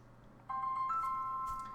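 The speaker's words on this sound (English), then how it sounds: "My phone always rings when we're on a video." A phone rings with a steady electronic two-tone chime that begins abruptly about half a second in and holds for over a second, fairly clear above a quiet room.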